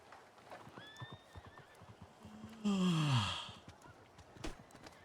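A horse in a Western role-playing video game lets out a loud whinny that rises and falls, preceded by faint hoof clip-clops and a brief snort, with no talk over it.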